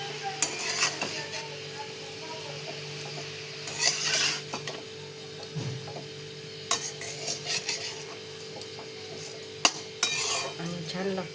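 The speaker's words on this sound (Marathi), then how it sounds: "ते बघा असं छान मिक्स करून घेतली भाजी आपली." Chakwat greens get mixed in a pan with scattered bursts of spoon scraping and clinking against metal, coming and going over a steady background hum.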